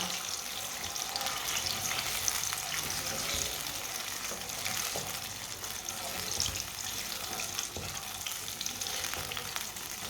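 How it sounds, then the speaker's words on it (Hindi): Sugar is stirred into hot ghee for makhandi halwa, a soft continuous sizzle with faint scraping and watery crackle running evenly throughout, quiet and close. "चीनी को अच्छी तरह मिक्स कर लेंगे। घी को ना 1 मिनट के लिए मैंने पका लिया था।"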